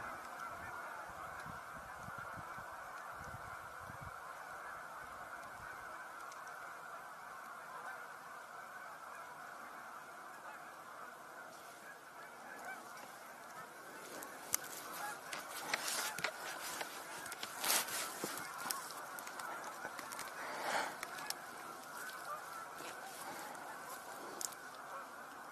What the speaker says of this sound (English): Little geese coming in.